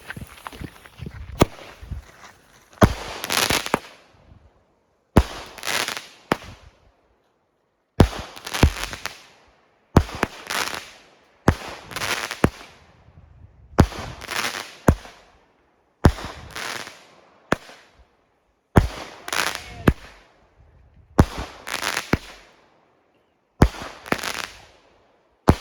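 Fireworks or firecrackers go off in a long series of sharp bursts. Each crackling volley is separated by a brief quiet gap, and the pattern repeats roughly every two seconds, with no voices.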